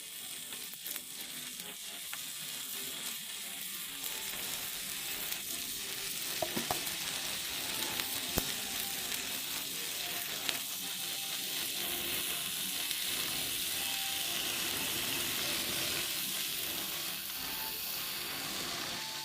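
Beef entrecôte sizzles steadily on a Korean barbecue grill at an all-you-can-eat restaurant in Dubai, a dense continuous frying hiss with occasional clinks of utensils.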